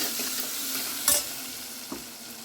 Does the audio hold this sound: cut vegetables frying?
yes